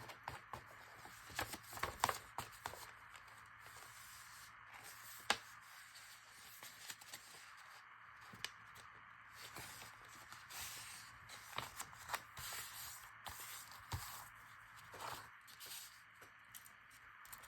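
Paper is handled and folded into pockets for a steampunk junk journal, giving soft, close rustles, creases and scrapes in irregular bursts at low volume.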